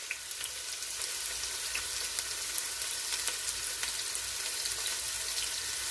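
Diced red onions sizzle and fry in a pan over lowered heat, a steady soft crackle with faint pops throughout, close and alone without talk.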